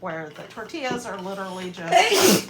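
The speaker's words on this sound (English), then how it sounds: "bless you" A sharp, breathy sneeze bursts out near the end, following a stretch of someone talking.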